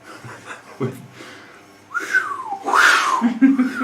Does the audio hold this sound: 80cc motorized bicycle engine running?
no